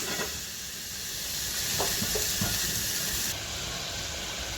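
Ground masala paste sizzling as it hits hot oil in a pan, a close, continuous hiss with a few soft clicks and stirring taps, briefly louder before easing off.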